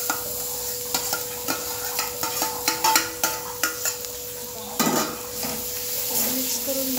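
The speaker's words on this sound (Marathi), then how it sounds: "आपण हा जो स्मॅश केलेला कद्दू आहे तो घालायचा. थोडंसं हलवून घेऊ आपण" Mashed pumpkin for bharit being stirred into spiced oil in a pan on the stove, heard as a run of close spoon scrapes and taps against the pan over a steady low sizzle, with a brief louder clatter midway.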